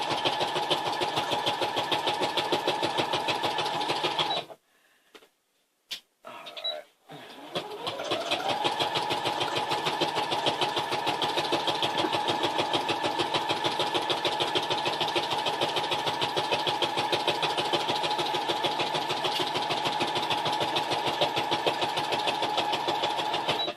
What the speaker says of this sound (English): I wonder why my sewing machine keeps on moving.